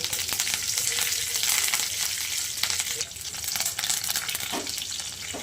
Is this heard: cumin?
yes